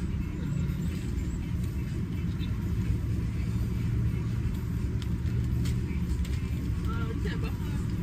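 Several cars idle in a drive-through queue, a steady low engine rumble holding evenly throughout with faint background noise.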